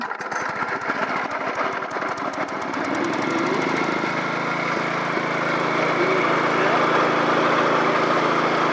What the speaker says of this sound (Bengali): এবার ড্রিলিং শুরু হচ্ছে, স্টার্ট দিচ্ছে।